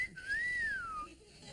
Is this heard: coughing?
no